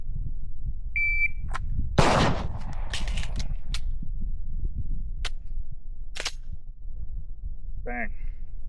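Pistol shots during reload practice at a range: a loud close crack followed by a scattered series of sharp, isolated reports and metallic clinks, with a beep from a shot timer near the start and a brief voice near the end.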